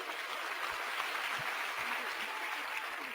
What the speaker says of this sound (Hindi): तो एक जोरदार तालियां हो जाए